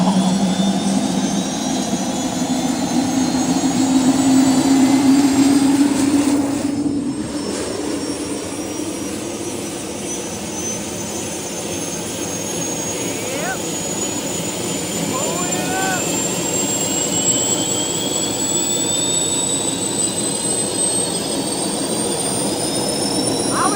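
An aircraft starts up and runs its two jet engines. Rising whining tones climb over a loud, steady roar close by, and the sound changes character partway through as the engines settle into a sustained howl.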